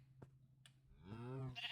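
Sheep bleat in Minecraft, a couple of short soft clicks followed by one wavering, nasal bleat at close range, fairly quiet with no talking.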